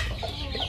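Backyard chickens cluck busily and close by as they are fed bones and chicken meat for their morning feed, a dense, continuous flock chatter.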